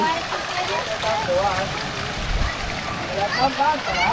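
Cold stream water gurgles and splashes close by at Kargah Buddha near Gilgit, a continuous burbling flow under people talking.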